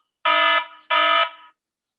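A security alarm panel sounds a zone 1 alarm: two loud, harsh electronic buzzer blasts of about a third of a second each, separated by a brief gap, with nothing else around them.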